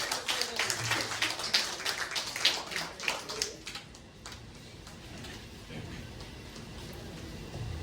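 A small audience at a talk gives scattered, uneven applause that thins out after a few seconds, leaving a quiet room tone.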